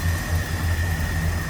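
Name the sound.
1971 Chevrolet K10 350 V8 engine idling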